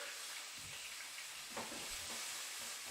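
Scallops sear in hot oil in a pan for a ginger scallop dish, giving a steady close sizzle with a few stirring scrapes and bursts of spatter, no voices.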